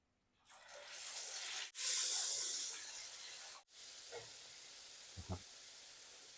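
Hot oil hisses and sizzles loudly as a fish head and bones are dropped into a pan, the sizzle surging in waves with a few soft clinks.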